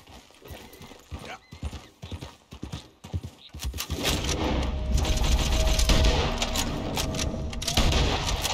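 Hooves of a horse in Red Dead Redemption 2 clip-clop in a loose rhythm, quiet at first, then a louder, denser gallop takes over from about four seconds along with a broad rumbling game soundscape.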